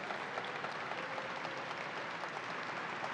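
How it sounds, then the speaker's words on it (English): A crowd at the opening of the Great New York State Fair applauds steadily for a state official, a dense, even patter of clapping heard from a distance, fairly faint and with no talk over it. "Let's give a round of applause to Richard Ball"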